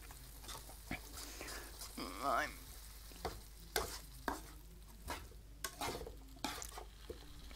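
Chinese-inspired stir fry mix sizzling in a pan, a soft steady frying hiss broken by scattered clatters and stirring knocks, with a short animal-like sound early on.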